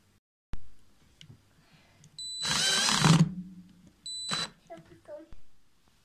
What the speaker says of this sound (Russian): будем закрывать и закручивать саморезами